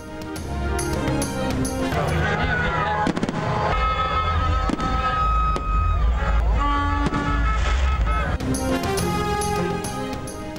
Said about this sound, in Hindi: जश्न आज़ादी पर इस्लामाबाद के F9 पार्क में शानदार आतिशबाजी का मुजाहिरा